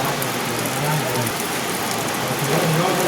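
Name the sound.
heavy rain falling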